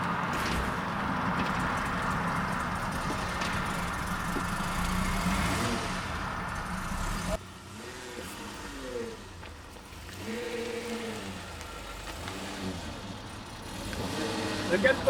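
A Peugeot 605 V6 car engine in poor running condition, idling roughly and then revving in short rising and falling bursts, close by, with people talking over it.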